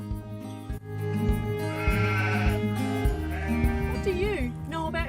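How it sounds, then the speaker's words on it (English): A ewe sheep on a farm bleats several times in wavering, nasal cries close by, over a low background hum. "To learn more about living things, let's go and meet my sheep Pepper."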